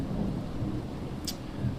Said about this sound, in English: and the big storm, there's thunder